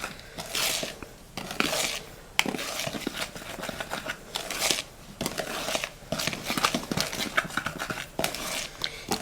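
Semolina batter stirred with a tablespoon in a mold, a steady run of close scraping and rubbing strokes with short pauses between them.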